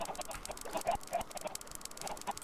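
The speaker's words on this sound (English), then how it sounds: "you can hear that even though there's a ton of chickens up here" Several chickens cluck in quick, uneven bursts in the game Drugcraft, close and fairly loud, with no talk.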